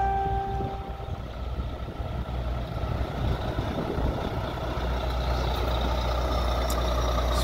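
Volvo container trucks pull out together in a convoy, their heavy diesel engines giving a continuous low rumble close by, with faint high beeps and ticks sounding near the end.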